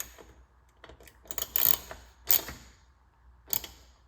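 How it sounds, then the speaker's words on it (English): Screws being tightened by hand on a Polaris RZR Trail 1000 door bag, a few close creaking, ratcheting turns in short bursts with pauses between, no voices. "now I'll go back and tighten up the 5 screws"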